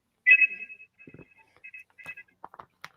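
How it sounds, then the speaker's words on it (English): Decoy cell phone ringing with an incoming call, a sharp electronic ring tone at the start that fades into a few softer repeats, with faint rustling and clicks around it. "somebody's calling me"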